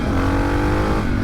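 Suzuki DR650 dual sport motorcycle engine accelerating hard, a loud, close, steady single-cylinder roar that holds strong throughout with a slight shift near the end.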